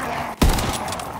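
A single sharp, loud shot from an M36 sniper rifle in a WWII video game, heard alone and close, with a short booming tail.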